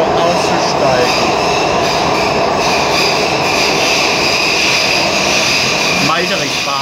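A U79 light rail train arrives at Meiderich Bahnhof terminal, loud and close, with a constant rolling rumble and wheel squeals swelling near the start and the end, while an announcement voice plays over the noise.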